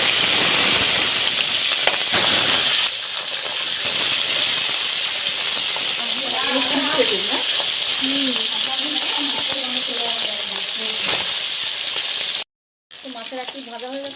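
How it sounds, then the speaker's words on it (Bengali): Small rohu fish frying in hot oil in a wok give a steady, loud sizzle and hiss that runs the whole time, with a voice speaking over it and a brief break near the end. "তেল গরম হয়ে গেছে এবার মাছগুলো আমি সব ভেজে নিচ্ছি"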